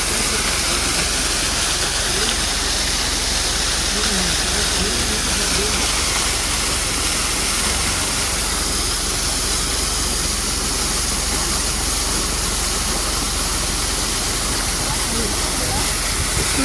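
Waterfall in the Neelum Valley near Arang Kel, a loud continuous broadband roar of rushing water that stays steady throughout, with voices faintly heard beneath it.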